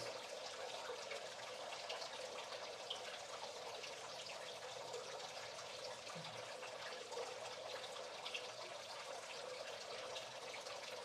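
Water trickling softly and continuously, a faint, even flow with small splashy details and no voices over it.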